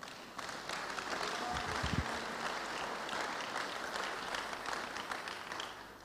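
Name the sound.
congregation applauding in church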